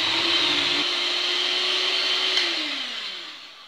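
An electric mixer beats whipped cream with mascarpone, a steady close motor whine holding one pitch before slowing and dropping at the end, loud and alone without any talk.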